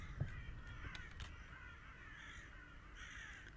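Several crows cawing in the horror video game Gray Dawn, repeated harsh calls, faint and somewhat distant over a steady ambient background, with no talk.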